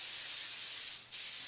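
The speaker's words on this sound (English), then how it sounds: "I'm going to take a little bit of nonstick spray" A steady, bright aerosol hiss of nonstick cooking spray sprays continuously from a can, briefly dropping out near the end before resuming.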